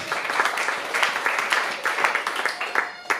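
A church congregation applauding for Jesus Christ, many hands clapping in a rapid, rhythmic burst, moderately loud and steady, with some voices blended underneath.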